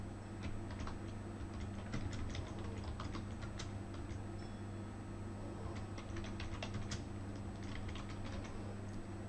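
Typing on a computer keyboard into a search bar, quick irregular bursts of faint key clicks over a steady background hum, with a short pause midway.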